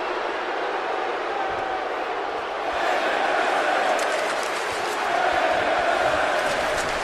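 Arena crowd cheering at a women's wrestling match in WWE 2K23, a dense steady roar of many voices that swells louder midway, distant and unbroken.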